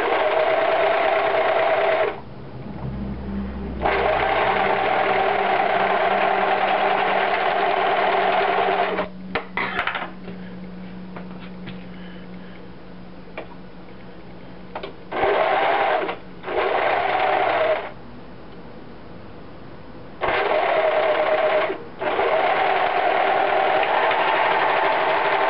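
A sewing machine stitches boxer brief underwear fabric in loud, steady runs lasting several seconds each, with quiet pauses between them and a faint hum during the breaks.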